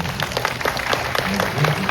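A large audience applauds at a consulate gathering, dense continuous clapping that fills the whole moment at steady loudness.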